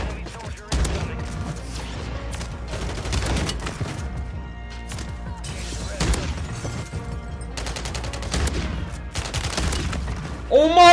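A BRYSON 800 shotgun fires repeatedly in Warzone 3 gameplay, sharp blasts spaced irregularly under game music and ambience, with a final burst at the end.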